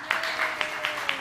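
Brief applause from an audience at a Rev. Patti Paris church service, a soft wash of clapping with a few sharper claps standing out at regular intervals.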